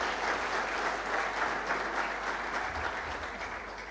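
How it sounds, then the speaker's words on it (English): A warm round of applause from a seated audience welcoming a presenter, a thick, even wash of many hands clapping at close range that holds steady throughout. "can we give a very, very warm round of applause to an amazing gentleman"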